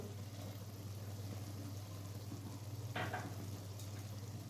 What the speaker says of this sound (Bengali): আবার আমি ভালোভাবে ছোলা আর গ্রিন মটর ভালোভাবে মিক্স করে নিচ্ছি।